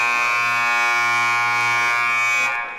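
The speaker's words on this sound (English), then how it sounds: "Definitely a long buzzer." A long electronic buzzer sounds at a boys JV high school basketball game: a loud, steady, harsh tone held for over two seconds before fading out.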